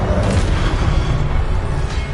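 A fire spell cast in Hogwarts Legacy, a dense, sustained whooshing roar with a deep rumbling low end, loud and steady throughout with no voices.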